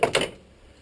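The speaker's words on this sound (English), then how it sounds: "it's worthwhile just tapping on these tabs so you get a good tight fit of the slave cylinder" Clutch slave cylinder tabs on an MG Rover Freelander being knocked into place, two quick sharp taps close up followed by silence.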